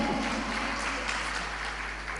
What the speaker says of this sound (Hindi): चलो अपने लिए तालियां बजा लो यदि होते हैं तो।